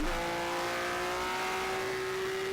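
Race car in the driving sim rFactor powering out of a corner, a steady loud engine note climbing slightly in pitch as it accelerates, close and continuous with no talking.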